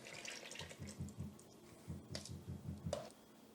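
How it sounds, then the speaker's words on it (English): Milk and buttermilk substitute poured into dry cornbread ingredients, giving soft, faint glugging and liquid splashes in short bursts, close and quiet. "we can add the wet-ass portion of the ingredient list. Milk, buttermilk substitute,"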